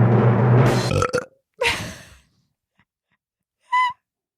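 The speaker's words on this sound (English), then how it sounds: "we did a sound check that was so full of burps" Burps during a sound check: a long, loud belch, a shorter second burp, then a brief high tonal squeak after a pause. Each is close and clear against silence.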